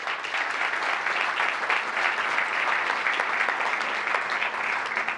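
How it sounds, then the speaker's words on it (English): Sustained audience applause at a town state-of-the-town address, dense steady clapping from a large seated crowd, even in level throughout with no talk over it. "Please give this group a nice big round of applause."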